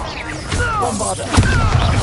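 A Bombarda spell blast in Hogwarts Legacy lands as a loud crashing boom with whooshing magical sweeps, mixed over a character's voice and in-game effects in a short burst.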